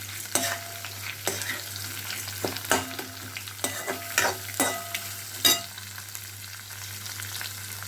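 Onions sizzle and fry in a pan, with a spoon stirring and scraping in irregular clicks over a steady low hum.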